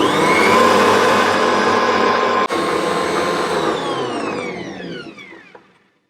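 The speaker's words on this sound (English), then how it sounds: "I'll add in my vanilla and my milk, and I'll give those another whisk around" An Ankarsrum stand mixer whisks cake batter with eggs, vanilla and milk, a steady loud motor whir with a brief dip partway, then winding down and fading to quiet at the end.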